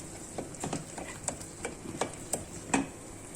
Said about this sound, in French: on va utiliser le fouet